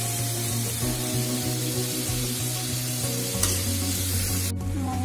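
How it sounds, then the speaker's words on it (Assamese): Dal sizzles and fries steadily with spices in a pan in a home kitchen, a loud, close, continuous crackle with faint stirring and no voices. "জাষ্ট অলপ মছলাখিনিৰ লগত ভাজি ল'ম"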